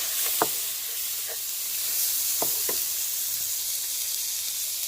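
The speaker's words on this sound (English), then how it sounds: "And then you're just going to saute this in the butter." Onions, garlic and tomatoes sauté in melted butter for buttered fried cassava, giving a steady bright sizzle throughout, with a few soft clicks and taps from stirring over it.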